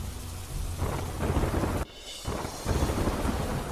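Steady rain and rumbling thunder from an early-morning downpour in Tamil Nadu's Kudai canal area, as waterlogged roads fill; the roar stays loud throughout, breaks briefly into a quieter lull, then swells back.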